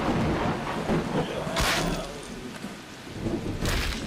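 Heavy rain pours steadily in the open-world zombie survival game VEIN, with two rolling thunder swells, one in the middle and one at the end, filling a dense, loud storm ambience.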